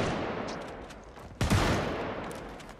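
A single loud gunshot blast in a survival video game set in a mega mall, striking about halfway through and fading slowly amid a steady, noisy game ambience, with no talking.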